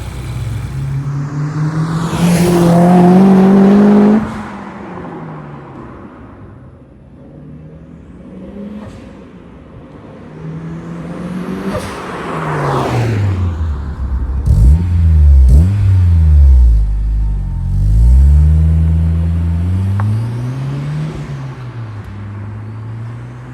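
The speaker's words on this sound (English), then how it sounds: "It's just a chill sounding, awesome power car." A Honda S2000 sports car engine revs hard and climbs through several accelerating pulls, rising and falling in pitch with loud surges and brief lifts between, close and without speech.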